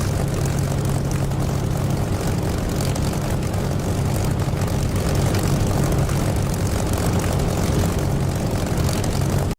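A Spitfire's propeller engine roars in the DCS flight simulator, a loud, constant, gritty drone with a steady low hum, unbroken until it cuts off abruptly at the end.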